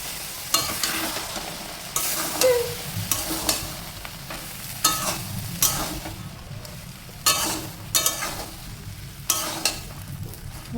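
Chili and turmeric spices and boiled peas frying in oil, with a spoon repeatedly stirring and scraping the pan in regular strokes over a steady soft sizzle, close and without talk.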